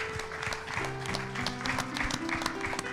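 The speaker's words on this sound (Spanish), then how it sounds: "Y te damos un grande aplauso, Señor." Applause from a church congregation during a Spanish-language worship service, sustained clapping mixed with organ or keyboard chords and some voices underneath.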